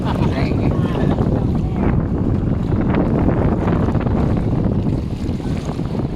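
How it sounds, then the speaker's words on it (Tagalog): Strong wind roars and buffets the microphone nonstop, a loud rumbling gust over Taal Lake while fishing, with engine or wave noise blended underneath. "Malakas na hangin"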